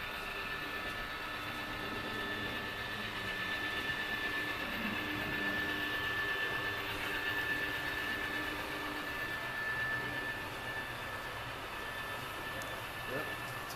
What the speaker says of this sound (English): It's passing another train.